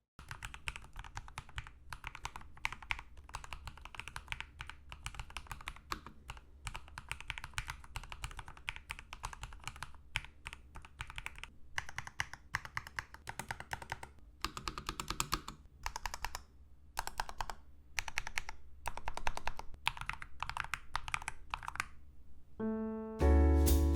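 Rapid typing on an ROG Strix Scope II 96 Wireless keyboard with NX Snow switches: a dense, even stream of close, crisp keystrokes with no talking, ending with a brief tone.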